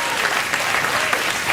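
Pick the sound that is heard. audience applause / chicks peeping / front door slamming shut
audience applause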